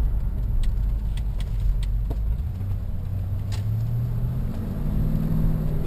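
A plain stock Ford Mustang convertible with an automatic transmission drives along, giving a steady low engine rumble and road noise throughout, with a faint rise in pitch near the end.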